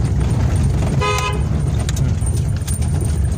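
A single short car horn toot sounds over steady engine and road rumble inside a car moving slowly through narrow lanes.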